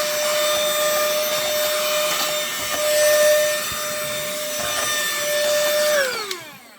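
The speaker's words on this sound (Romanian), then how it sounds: "Haideți să și aspirăm un pic." A vacuum cleaner runs steadily while sucking dust off the 60 GB hard drive of a PS3 console, a loud continuous whine with a tonal hum that shifts slightly before cutting off near the end.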